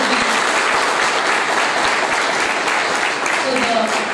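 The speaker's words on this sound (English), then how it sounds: "so the applause that is there is saying it all." Loud, dense audience applause fills a smart cities conference hall, continuous and steady throughout with faint voices mixed in.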